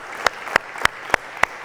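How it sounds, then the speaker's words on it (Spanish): A church congregation at a Spanish-language morning service claps in unison; five sharp, evenly spaced claps ring out in a steady beat over a quiet room. "Denle un aplauso al Señor esta mañana"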